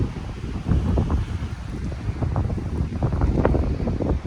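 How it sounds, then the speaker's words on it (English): Gusty wind on the Oregon Coast buffets the microphone in a steady low rumble, with rushing air and occasional stronger gusts, no voices. "Kind of windy right now"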